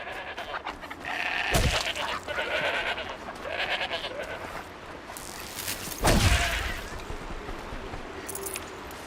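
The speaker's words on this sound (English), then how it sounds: "There are 2 goats up there." Goats bleat in a snowy video game wilderness, two calls standing out as loud, sharp bursts over a steady ambient wind-like bed, with a few softer animal sounds between them.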